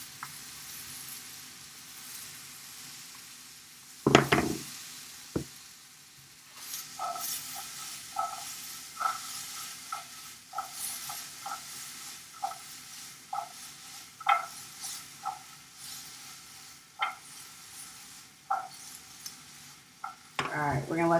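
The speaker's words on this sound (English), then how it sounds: "Alright, we're gonna let these roast up." Vegan protein with garlic paste and salt sizzles softly in a pan over medium heat, a steady faint hiss punctuated by repeated clicks and scrapes of stirring, close and with no talk.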